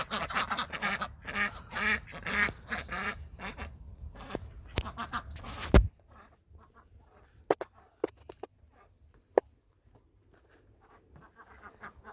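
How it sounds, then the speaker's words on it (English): Several ducks quacking inside a pen early in the morning, a busy close chorus of overlapping quacks for about six seconds, then quieter scattered clicks and faint sounds. "Here's the ducks. Usually they're outside, but they're in the pen right now."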